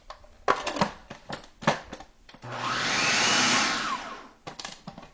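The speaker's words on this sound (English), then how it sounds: "I'm actually going to give it one more blitz." Food processor blitzing nuts into coarse crumbs for mini baklava, a few short rattling pulses and then one longer whirring burst lasting about two seconds, loud and close.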